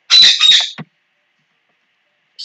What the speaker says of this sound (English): Sorry, my birds are squawking.